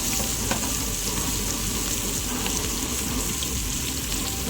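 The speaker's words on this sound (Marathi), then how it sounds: "हे पॉपलेट पण एकत्रच फ्राय होते." Pomfret and surmai fish shallow-frying in a rava coating at a beachside eatery, a steady dense sizzle holding evenly loud throughout with no voices.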